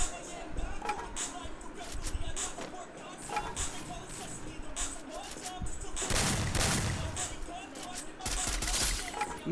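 Shotgun blasts and other gunfire ring out in a Garena Free Fire custom rush match, with scattered shots and a louder burst of firing near the end, heard under a player talking.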